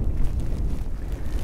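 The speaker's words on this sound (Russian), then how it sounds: "ну, сами понимаете, и возможно слышите, ветер здесь. Ого-го!" Strong, gusty wind blowing across open ice at a winter fishing spot, a steady low roar buffeting the microphone without a break.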